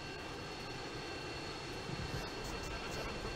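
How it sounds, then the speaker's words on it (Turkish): An airplane engine in Call of Duty: Modern Warfare 2 drones as a faint, steady background hum during gameplay, with a slight swell partway through. "Buraya bir uçak indirdiniz abi."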